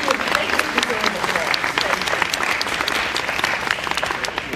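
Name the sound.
applause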